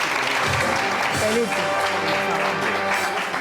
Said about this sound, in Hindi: तालियां बहुत सारी।